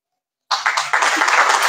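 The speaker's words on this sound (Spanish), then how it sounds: "un fuerte aplauso para todos ustedes." Crowd applause at a rain-school inauguration after a ribbon cutting, bursting in suddenly after a half-second of silence and then holding steady and dense, loud and close.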